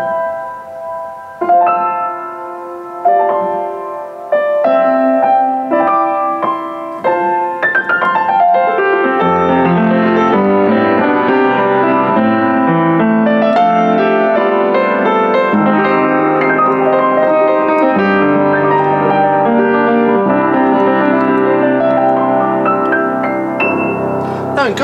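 A refurbished Yamaha U3 upright acoustic piano is played with its lid open. A sparse melodic opening builds into full, rich chords with a bright sound and ringing harmonics, heard alone.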